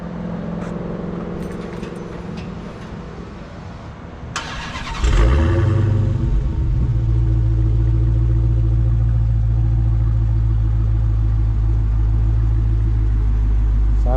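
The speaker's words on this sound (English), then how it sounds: "Let me get that started up right quick." A powerful supercharged V8 in a 2020 Dodge Charger Hellcat Widebody cranks and fires up with a loud roar, then settles into a deep, steady, rumbling idle.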